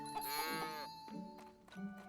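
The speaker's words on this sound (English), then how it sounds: "And Stella, the cow" A cow in the farming video game Story of Seasons: Grand Bazaar gives a single drawn-out, harmonic moo, followed by a few soft game sound effects; no talking.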